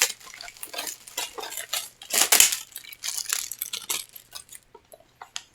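Plastic rustling and clacking as a Criterion Collection movie case is handled and opened, a series of close crinkles and clicks with a louder burst in the middle.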